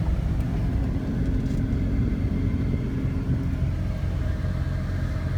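A 2006 Jeep Wrangler LJ with a 6-speed manual and 50K miles drives along, its engine and road noise forming a steady, even cabin drone with no talking.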